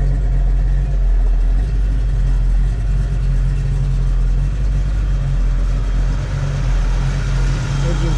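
A fully restored 1970 Ford Mustang Mach 1 fastback, an M-Code with a 5-speed and Shaker hood, idles close by with a deep, steady, even rumble and no voices over it.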